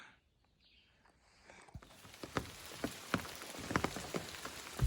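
Rain patters down on a surface nearby on the Appalachian Trail, starting quiet and growing into a steady fall of scattered, sharp drops.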